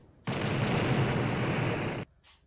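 A rocket blast in the classic shooter Blood, a single loud, dense burst of roaring explosive noise sustained for nearly two seconds before stopping sharply, with a faint hiss trailing after.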